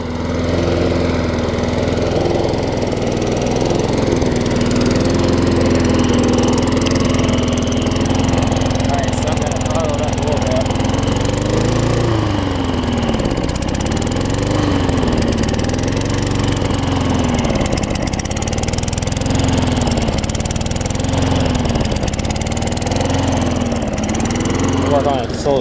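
Craftsman self-propelled lawn mower with a Tecumseh engine, running poorly on fuel, runs steadily and loud up close, its pitch wavering and surging in the second half, with a voice talking over it.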